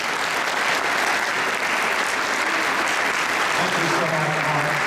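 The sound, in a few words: audience applause for Senator Richard Blumenthal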